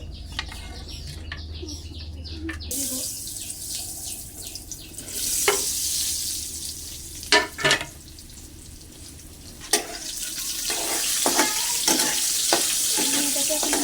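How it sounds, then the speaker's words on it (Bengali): Food frying in hot oil in a home kitchen, a steady hiss running throughout, louder and brighter after the first few seconds, with occasional clinks and stirring knocks over it. "তেলের ভিতরে ভেজে নিব।"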